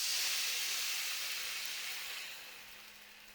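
Water poured into a hot pan while making sheer khurma gives a loud, close hiss of steam that slowly fades and softens over a few seconds.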